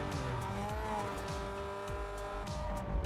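A V10 car engine roars steadily with shifting revs while tires squeal and skid, loud and sustained in a Need for Speed Most Wanted racing game.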